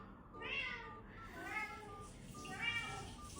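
A cat meows loudly at a door, giving three drawn-out, strained meows in a row, close and clear over faint room noise.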